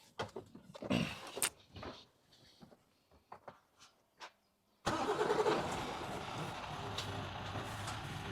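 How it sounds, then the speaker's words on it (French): Clattering and handling noises give way to a tractor engine that starts up and runs with a loud, steady rumble close by. "je vais avancer le tracteur"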